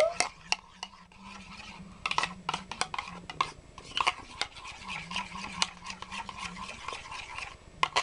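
A spoon stirs a thick molasses mixture in a bowl, steady scraping and clinking strokes in a quick irregular rhythm, close and fairly quiet, with no talking.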